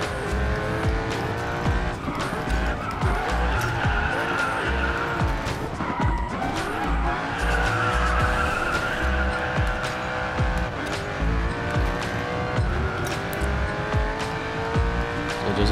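A BMW M8 slides through a downhill drift in the racing game Ace Racer, its engine roaring steadily while the tires squeal continuously and loudly throughout, with no talking.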